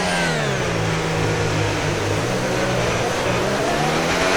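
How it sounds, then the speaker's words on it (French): Leclerc's F1 car in the F1 26 video game building speed again, one steady engine note climbing in pitch, loud and continuous with no talk over it. "Leclerc qui réaccélère."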